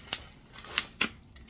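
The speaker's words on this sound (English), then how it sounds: "I'm just going to grab these other scissors. I'm just going to cut out a bigger hole" Scissors cut a bigger hole in a piece of fall decor, giving three sharp, separate snips close by in a quiet room, with no voice.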